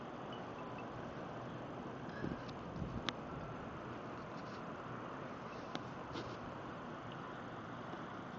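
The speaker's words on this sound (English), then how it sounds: "The wind has even let down quite a bit." Winter blizzard wind in the Chicago area blows as a steady, broad rushing roar, even and moderately loud throughout, with a few faint knocks and no voices.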